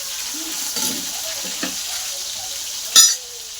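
Steady frying sizzle of tomatoes and cumin in a pan with a few clinks of a utensil stirring, and a brief louder scrape near the end.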